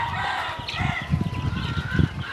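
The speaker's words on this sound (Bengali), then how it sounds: "এই যে আমার ফার্মি দেশি মুরগি, যেগুলো ডিম পাড়ার জন্য প্রস্তুত করা হচ্ছে" Desi farm chickens being raised for egg laying, cluck and call in a steady flock chorus with occasional crowing, moderately close and without talk.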